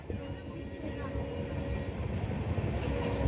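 Alipurduar–New Jalpaiguri tourist special train rolling across the Diana rail bridge in the Dooars, a continuous low rumble and clatter of wheels with a faint steady hum, moderately quiet.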